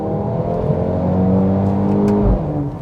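2019 Mercedes A-Class AMG hot hatchback engine revving under acceleration, a loud, continuous throaty drone that rises and shifts pitch, heard from close by with no talk.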